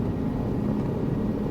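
A helicopter in Microsoft Flight Simulator 2024 flies with a steady, dense rotor and engine drone, loud and unbroken throughout, with no talking.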